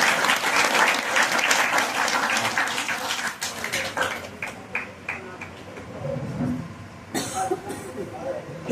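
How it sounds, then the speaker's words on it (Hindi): Clapping welcomes Acharya Avnish at a Vedic temple gathering. Loud applause in the first few seconds thins into scattered claps, followed by murmuring voices and a cough. "आचार्य अवनीश जी का एक बार ताली बजाकर स्वागत किया जाए"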